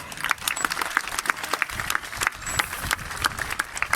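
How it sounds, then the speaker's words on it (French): An audience applauds at a dolphin show in a delphinarium, steady dense clapping from many hands filling the whole stretch, fairly close and loud. "On peut les applaudir bien fort."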